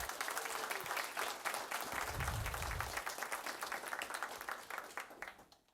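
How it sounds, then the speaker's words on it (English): A round of applause at a school district board of education meeting honoring a student, dense clapping from the audience that is fairly faint and holds steady, then thins out at the end. "Let's give her a round of applause."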